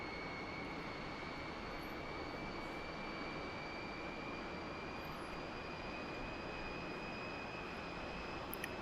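A MiG-15bis jet engine at full throttle near 7,000 RPM in the DCS flight simulator, a steady dense roar with high whining tones that holds constant and loud throughout.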